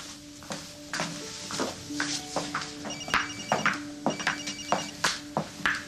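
A telephone rings repeatedly in quick electronic bursts within a busy indoor scene, mixed with clattering, movement and background noise from a television drama.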